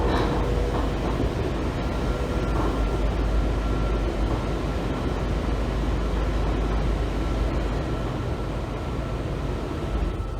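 Ride aboard a Washington Metro Kawasaki 7000-series subway train bound for L'Enfant Plaza, with a steady loud rumble and roar of the running train filling the whole stretch and a faint high tone rising in the background.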